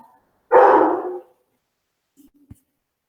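A dog barks once indoors at home, a single loud, close bark, followed by a few faint soft knocks in an otherwise quiet room.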